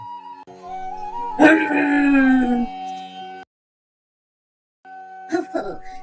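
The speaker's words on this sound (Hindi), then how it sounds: "ये कुत्ते फिर से आ गए।" Several dogs howl in a long rising chorus that swells and fades, then breaks off into silence before a few short yelps and cries return, near and fairly loud.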